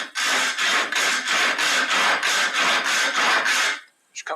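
A coarse hand saw cuts wood for a half-blind dovetail pinboard in about eleven steady, evenly spaced rasping strokes, close and loud with no talk, before the sawing stops near the end.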